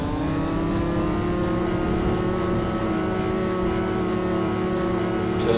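Motorbike engine in the snow game Snow, revving steadily and loudly throughout with a sustained, slightly rising drone, no talk.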